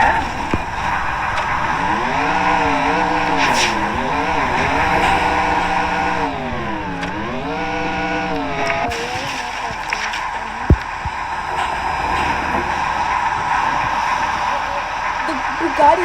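A Bugatti car driving in a video game, its engine tone sweeping up and down repeatedly with tire squeal and skidding, loud and continuous, with speech mixed in at times.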